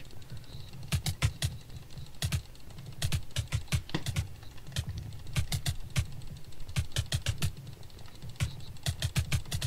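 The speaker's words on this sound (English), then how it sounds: "I'm switching my left and right click. So E is left click and attack is right click. So I'm right clicking now, Jonas." Rapid bursts of computer mouse right clicks during a Minecraft PvP match, sharp close clicks in quick irregular clusters over a low steady background hum, with no talking.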